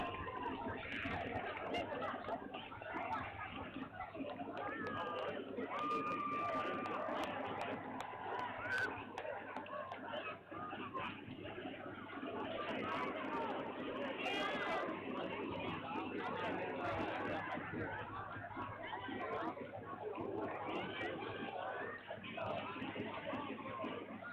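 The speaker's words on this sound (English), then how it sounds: "I will just stay quiet for 1 second so you can hear some of the crowd noise" Parade crowd murmuring and chattering steadily at a distance, a dense wash of many voices with occasional laughter, no single speaker standing out, filling the whole stretch at an even level.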